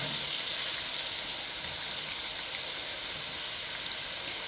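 Zucchini pieces frying in hot oil, stirred with a slotted spoon, give off a loud, continuous hissing sizzle close by, steady from start to finish with no talk.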